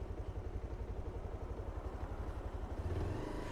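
A Bajaj Pulsar 220F motorcycle engine runs steadily in third gear while riding, a loud continuous low throb with rapid firing pulses that swell slightly near the end, with no talking.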